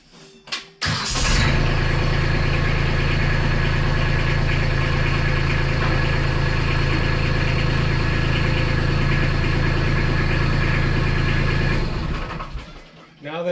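A small tractor engine starts and then runs at a steady idle close by, loud and continuous for about ten seconds before cutting off, with a mid-pitched rumble and no talk over it.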